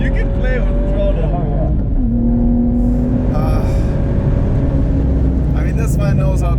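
A 500 hp BMW M135i on a race track revs and eases under throttle, its engine note rising and falling through gear changes, loud and steady beneath voices talking over it.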